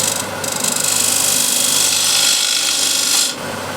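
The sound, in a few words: small spindle gouge cleaning up wood on a lathe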